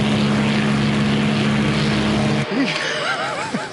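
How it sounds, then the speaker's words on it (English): A propeller-driven aerobatic airplane drones steadily and loudly in flight through a corkscrew tumble, its engine tone holding level before a sudden shift as the pitch wavers and sweeps in the last second or so. "I take the airplane and tumble it end over end through the sky in a big old corkscrew"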